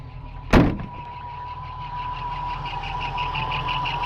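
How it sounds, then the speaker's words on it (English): A sharp thud near the start, then an ex-New Zealand Army Land Rover Stage One V8 engine idles steadily with a thin dynamo whine running over the low rumble. "the dynamo's making a bit of noise"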